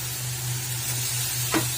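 Bean sprouts frying in a pan over the flame, a soft continuous sizzle with a low steady hum beneath and a brief stir or scrape near the end, no talking.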